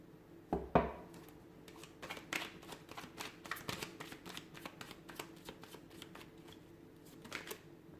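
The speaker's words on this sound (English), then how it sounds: "we'll go ahead and give the cards a shuffle" Tarot cards being shuffled by hand, a close, soft run of quick riffling flicks and taps, starting with a sharper slap of the deck, then a steady patter of light card snaps, with no talking.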